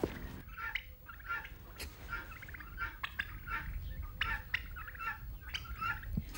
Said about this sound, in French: Il s'agit de Maître Dindon.